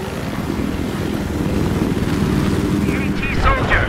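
A helicopter in the video game Battlefield 4 produces a dense, loud rotor and engine roar that grows slightly toward the end, with a few faint tonal game sounds near the close.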